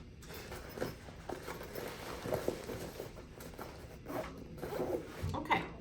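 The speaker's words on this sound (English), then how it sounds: "And then we're going to zip this up." A zipper is drawn closed on a home-infusion carrier bag holding a TPN bag, with several short rasping pulls and soft handling rubs, quiet and close with no voices.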